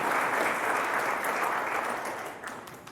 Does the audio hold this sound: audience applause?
yes